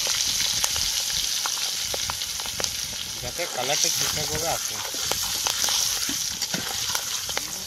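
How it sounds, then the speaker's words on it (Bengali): Turmeric and Kashmiri chilli frying in oil for a mustard hilsa dish cooked outdoors by a dam, a continuous loud sizzle under a person talking, with some stirring scrapes. "আমাদের এর মধ্যে হলুদ আর কাশ্মীরি চিলি যেটা দিয়েছিলাম ভাজা হয়ে গেছে।"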